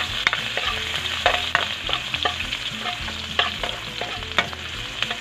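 Ginger sautéing in oil in a pan as the first step of a gising-gising dish, sizzling steadily up close while a utensil stirs and scrapes in repeated sharp knocks, no voices.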